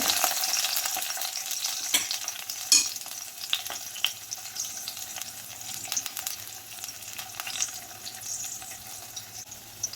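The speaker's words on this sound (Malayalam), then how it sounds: "അതിലേക്ക് ഒരു ടേബിൾ സ്പൂൺ വെളുത്തുള്ളി നമുക്ക് ചെറുതായി ചോപ്പ് ചെയ്ത് ഇട്ട് കൊടുക്കാം ഒന്ന് വാടി വരട്ടെ" Chopped garlic, about a tablespoon, sautés in a hot pan for a chicken vegetable soup, a steady bright sizzle with occasional stirring clicks and scrapes, close and continuous with no talk.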